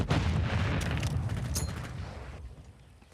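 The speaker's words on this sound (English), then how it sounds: "Throwing flash grenade!" A flash grenade going off in a video game, a loud close boom with a broad noisy blast that slowly fades over a few seconds.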